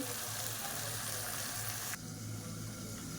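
Vegetables sauté with salt in a pan for kulambu, a loud, dense, continuous sizzle and hiss close by that drops slightly in intensity partway through.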